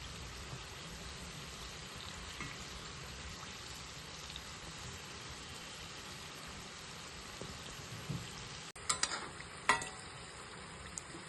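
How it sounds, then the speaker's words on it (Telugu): Kajjikayalu deep-frying in oil over a medium flame give a faint, continuous bubbling hiss, with a few light clinks near the end. "ఇలాగా స్టవ్ మీడియం ఫ్లేమ్లో పెట్టుకుని ఇలాగ వేపుకోవాలి."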